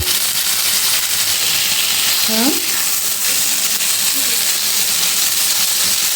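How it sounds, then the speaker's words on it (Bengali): Ginger and chili paste frying in a pan with very little oil, a steady broadband sizzle throughout, with a brief tonal squeak partway through. "এবার আমি এতে আদা আর লঙ্কা যে পেস্ট করে রাখা হয়েছিল ওটা দিয়ে দেবো। দিয়ে একটু ভাজা ভাজা করে নেব"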